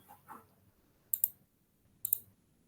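Two crisp double-clicks from a computer mouse, close and sharp, spaced about a second apart in an otherwise quiet room after a faint murmur.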